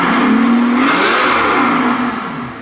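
Straight-piped Mercedes S65 AMG with a 6.0L twin-turbo V12 revving up to around 4,500 rpm: a loud, close, raspy roar that holds high, then sinks as the revs fall.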